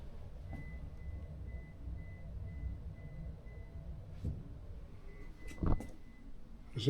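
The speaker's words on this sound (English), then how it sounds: "What's that beeping noise?" A faint electronic beep repeats at an even pace against low background rumble, followed by a few louder knocks and clatters.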